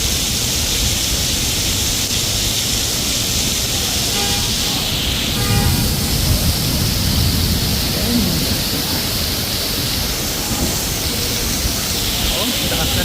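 Heavy tropical downpour pouring down with rushing runoff water, a dense steady hiss of rain that stays loud and unbroken throughout, with faint voices underneath.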